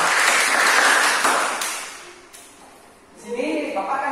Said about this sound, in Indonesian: berikan aplaus dulu untuk kedua orang